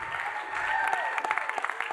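Continuous audience applause in a church service, dense clapping holding steady and fairly loud, with faint voices and cheering underneath.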